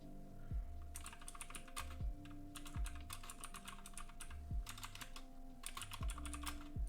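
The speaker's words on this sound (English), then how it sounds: "We just type in here whatever it is that we want to say" Rapid bursts of typing on a computer keyboard, clusters of quick clicky keystrokes separated by short pauses, heard over a background of repeating electronic tones from a stream setup.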